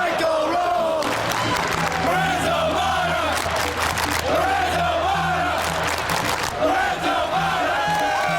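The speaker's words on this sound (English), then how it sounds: "the roll call, before the game, we all basically give a shout out to every player on the court during their warm-ups" A UCLA student section at Pauley Pavilion roars a pre-game roll call, with loud rhythmic group shouts and chants from a packed crowd rising in repeated waves across the arena.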